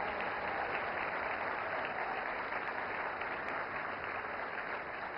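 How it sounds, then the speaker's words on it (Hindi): An audience applauds at the 70th National Film Awards ceremony as an award is received, a dense and even wash of clapping that holds steady throughout, slightly distant and without any talk over it. "जोरदार तालियां।"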